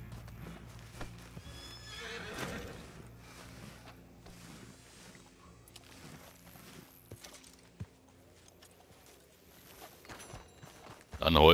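A horse in Red Dead Redemption 2 Online clip-clops in hoofbeats and neighs, with a whinny early on, and the game sounds stay moderately quiet and intermittent.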